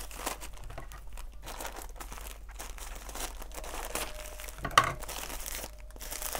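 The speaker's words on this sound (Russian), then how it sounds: "Это уже другая упаковка с пупыркой." Plastic packaging with bubble wrap, holding craft ribbons, crinkles and rustles continuously at close range, with irregular crackles and one sharper crunch partway through, no voices.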